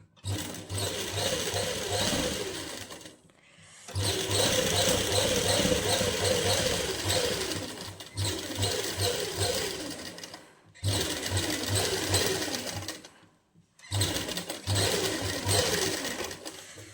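A sewing machine stitches a seam on a winter suit in several loud, steady runs of rapid mechanical clatter, each stopping briefly before starting again, close by.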